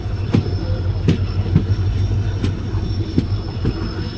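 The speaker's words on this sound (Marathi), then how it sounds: "मित्रांनो सकाळचे 7 वाजलेत आणि गाडी आता पोचली आपली संगमेश्वरला." Tutari Express passenger train pulling into Sangameshwar station, loud and close, with a steady rumble and rhythmic wheel clacks over rail joints, a faint high squeal from the wheels as it slows.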